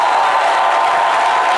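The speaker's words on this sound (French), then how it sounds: "Merci d'applaudir" Studio audience applause on a French daytime TV talk show: a dense, steady wash of clapping, loud and even throughout, with no voices standing out.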